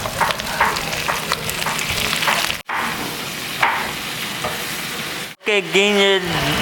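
Chopped tomato is added to a hot pan of browned masala and stirred, giving loud close sizzling and frying with scraping strokes, broken by two brief cuts and ending with a voice speaking.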